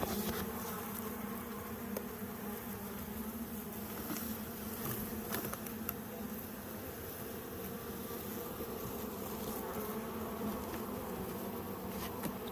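A dense, steady hum of many honeybees buzzing up close, continuous and even throughout with no voices.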